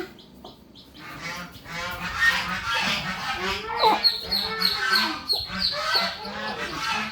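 Ducks quack and honk repeatedly at close range, with harsh nasal calls and some faint voices mixed in.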